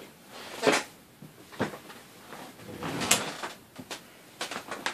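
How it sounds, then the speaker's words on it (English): A squeaky chair creaks indoors in several short, scattered bursts of uneven loudness, with quiet pauses between them and no speech. "oh, that chair is really squeaky."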